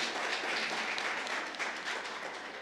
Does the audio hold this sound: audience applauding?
yes